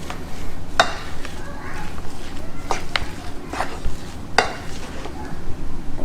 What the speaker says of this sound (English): Get a masher out and just start mashing it up.